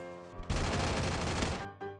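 Rapid automatic gunfire from an online shooter game, a dense loud burst lasting about a second with a quieter trailing shot afterward, no talk during the burst.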